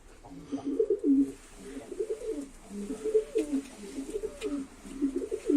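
Several fancy pigeons coo steadily in a coop, their low rolling calls overlapping in near, continuous phrases with faint ambient noise behind.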